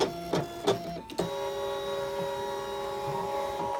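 A Brother Scan N Cut machine cutting flannel fabric gives a few quick electronic beeps and motor clicks, then settles into a steady whirring motor hum with tonal whine, close and alone.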